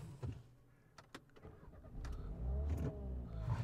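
Renault Scenic 1.5 dCi diesel engine cranking over on the starter and catching, a low rumbling churn that rises and steadies into a loud running idle near the end, heard close with no talk.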